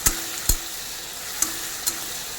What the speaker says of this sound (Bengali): লাল লাল করে ভেজে নেবো চিংড়ি মাছগুলোকে।